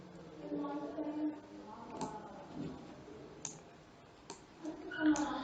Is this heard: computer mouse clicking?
yes